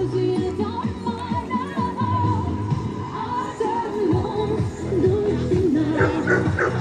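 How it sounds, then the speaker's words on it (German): At an outdoor dog training event, a dog barks repeatedly on command in quick, close bursts, with yips mixed in and a murmur of people in the background. "der Hund wird angeschaltet und darf nur bellen, wenn sein Herrchen oder Frauchen das Kommando dazu gibt"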